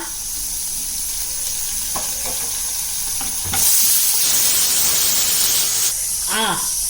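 Fresh coriander with its stems goes into a pan of mutton head curry with tamarind leaves, bringing a loud steady sizzle and hiss with stirring scrapes, a brief surge of steam, and some talk over the cooking.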